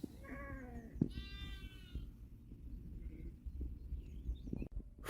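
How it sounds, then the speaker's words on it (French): Causses du Lot ewes bleating nearby with harmonic, wavering cries, a couple of calls in a row over low rustling background. "ces brebis sont des cossenardes du Lot"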